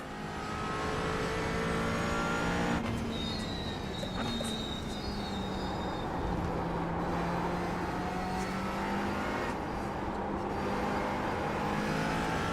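An LMP3 prototype race car circulates on a damp track at Mugello, its engine a steady loud drone with shifting pitch running through the whole stretch alongside continuous road and tyre noise.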